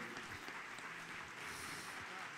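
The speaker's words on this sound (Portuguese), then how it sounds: "Receba as nossas palmas, Jesus." A church congregation claps together during worship, a dense, continuous patter of applause heard faintly at a distance and holding steady throughout.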